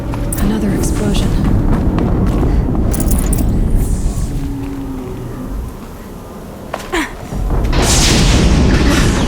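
Another explosion in the Horizon Zero Dawn video game: loud low booms and bursts that dip briefly, then swell again into a heavy rumble with crackling debris.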